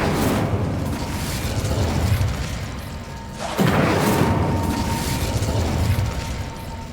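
Incendio fire spell cast in Hogwarts Legacy: two loud whooshing, booming bursts about three seconds apart, each swelling and then carrying on as a dense roar with a faint mechanical rattle underneath.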